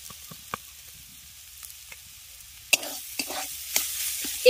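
A potato and jackfruit filling seasoned with garam masala and salt is stir-fried dry in a pan, starting as faint scattered clicks, then turning into louder scraping stirs and sizzle in the second half, with no voices.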